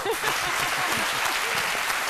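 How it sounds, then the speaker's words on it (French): Applause from a studio audience on a live Ivorian midday talk show, a steady dense wash of clapping running the full two seconds, with faint voices murmuring underneath. "Ça s'applaudit, ça."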